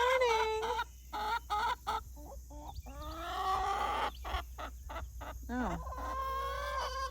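Chickens cluck and squawk close by in a garden on a summer morning, with repeated bursts of clucking and a rising crow-like call, while a person briefly speaks.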